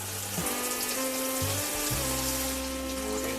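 Chicken broth pours from a container into a cooking pot on a kitchen stove as a continuous close splashing gush. Its gurgling tone shifts in steps as the stream changes.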